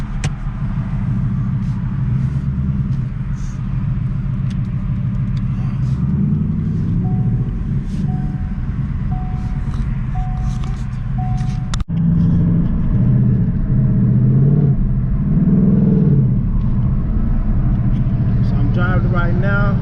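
A 2019 Ford Mustang GT California Special V8 running an E85 flex-fuel tune while being driven, with a loud, steady low engine rumble and shifting revs from inside the cabin, with a voice talking over it.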